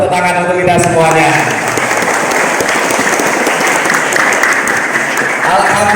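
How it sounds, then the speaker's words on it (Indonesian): Sustained applause from a school audience at an evening motivational gathering, loud and steady throughout with crowd noise mixed in, briefly under a voice at the start. "tepuk tangan untuk kita semuanya"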